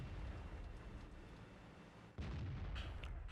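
A tank cannon in World of Tanks fires once with a sudden heavy boom partway through, over continuous low engine rumble and battle noise, faint and distant-sounding.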